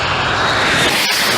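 A cargo airplane roars past in a very low pass over a runway area, a loud continuous broadband engine rush filling the clip with a brief dip near the end.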